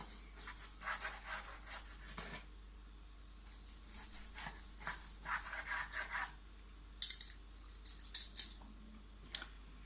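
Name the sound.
knife cutting a piece of cooked rump or sirloin steak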